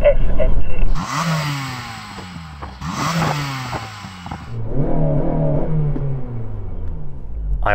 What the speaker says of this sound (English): Daniel, can you rev up your SN2?